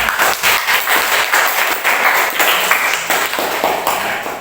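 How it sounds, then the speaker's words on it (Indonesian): Classroom of students applauding together, a steady dense clatter of many hands lasting several seconds at close range with no talk over it. "Oke, berikan aplaus untuk kita semua."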